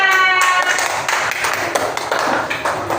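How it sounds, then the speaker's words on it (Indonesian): Students in a class clap together for correct answers, with dense, lively applause sustained close by from start to finish. "Beri tepuk tangan"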